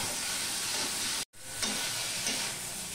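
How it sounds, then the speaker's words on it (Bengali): Broccoli frying in a pan with salt and spices, a loud steady sizzle that cuts out briefly and then resumes with soft stirring scrapes. "মিশিয়ে নিয়ে আমি ভাজতে থাকবো"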